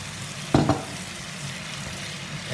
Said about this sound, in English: So now I add my chopped tomatoes.